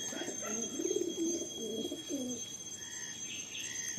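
Madrasi pigeons of the tiger breed coo in a series of soft, rolling calls close by, a few repeated phrases over a quiet background with faint chirps and no talking.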